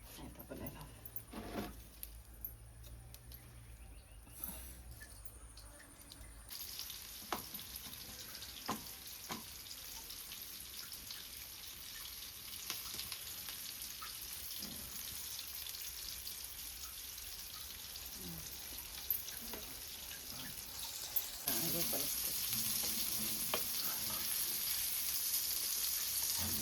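Flour-coated fish, Malvani style, drops into hot oil: a faint, steady frying hiss with occasional soft pops and clatters, getting a bit brighter near the end, with no talking.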